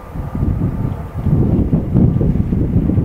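Steady wind buffets the microphone outdoors beside a solar-powered stock trailer, a continuous low rumbling gust that swells and eases without pause for about three seconds, with no voices.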